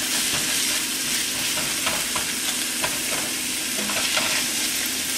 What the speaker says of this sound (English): So you saute your onions and your ground beef and your onions and your parsley.